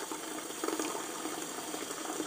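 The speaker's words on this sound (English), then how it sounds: "You could do this before you start running the water" Water runs from a tap into a bath in a steady, soft splashing stream, close by and quiet, with no voices.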